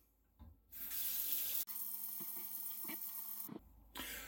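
Cold water runs from a tap into a sink in a home-brewing setup for a California pilsner, a steady loud rush broken by a brief pause and ending with a short gap before the flow resumes.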